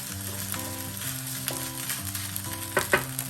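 Soy sauce sizzles in a pan of garlic fried rice (sinangag), a steady frying hiss with a few sharp clinks of a utensil near the end.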